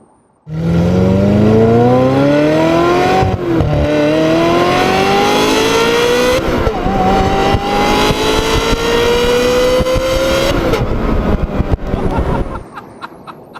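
A Ferrari 355 Spider's high-revving V8 engine climbs steadily in pitch toward 8,500 rpm through several long pulls, loud and close, with brief gear-change dips before cutting off near the end.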